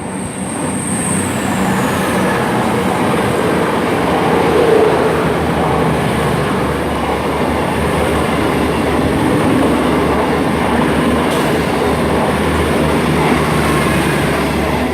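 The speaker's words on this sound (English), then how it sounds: "coming in now, or passing through even, is a cross-country service to Glasgow Central from Newquay" A cross-country passenger train formed of paired Class 220 and 221 units passes through Stapleton Road station, a loud continuous rumble of wheels and engines with a rising high squeal early on and a brief sharp click near the end.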